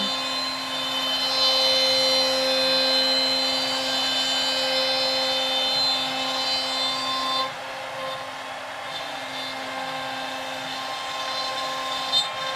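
A CNC router cuts a job, giving a steady high-pitched whine with a constant tonal hum that drops in level partway through as the cutting load changes, loud and continuous without talk.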